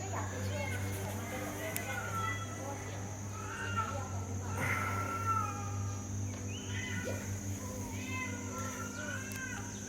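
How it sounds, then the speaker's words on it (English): A cat that has fallen into water meows and wails in short, strained cries from nearby. The calls repeat every second or two over steady low hum and background voices. "there's a cat that's fallen into the water"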